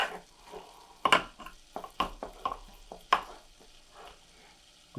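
Potato and peas with spices frying in a pan during an Indian curry preparation, with soft sizzling under sharp clinks and scrapes of a utensil stirring against the pan at irregular intervals, close and fairly quiet, no talk.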